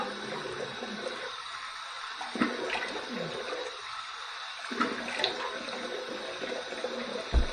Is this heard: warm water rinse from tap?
yes